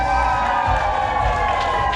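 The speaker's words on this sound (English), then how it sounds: "One more big round of applause." Audience at a Christmas holiday magic show in an amusement park, a brief burst of crowd cheering and applause, dense and sustained.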